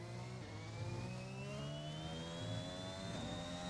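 An F1 car's engine in the F1 2021 racing game, short shifting into fifth gear: a loud, continuous high-pitched engine whine whose pitch climbs steadily, heard alone with no talk.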